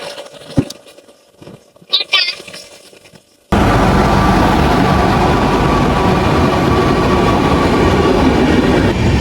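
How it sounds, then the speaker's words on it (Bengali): The Kolkata–Radhikapur Express passes close by as a sudden loud, sustained rumble of wheels and carriages, preceded by a few seconds of quiet with brief sounds. "তো এটা হলো কলকাতা রাধিকাপুর এক্সপ্রেস, যেটা তোমরা দেখলে।"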